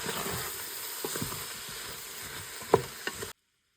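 Turmeric, salt and coriander-cumin powder sizzle in hot oil in a frying pan while a spoon stirs them, a constant close hiss with scattered scraping taps, then abrupt silence.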